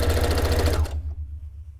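A sewing machine stitches seams on a cosplay cape-dress, a close, fast mechanical whirr that runs for about a second, then stops, leaving a low hum.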